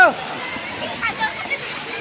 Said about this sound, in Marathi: इकडे आता पाणी बघा कसं पडतंय